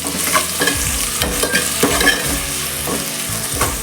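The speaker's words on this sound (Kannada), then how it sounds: "ಫ್ರೈ ಮಾಡಬೇಕು." Ginger, green chilies, onion and tomato frying in a pan, a steady sizzle broken by repeated scraping stirs of a spoon, close and fairly loud with no talking.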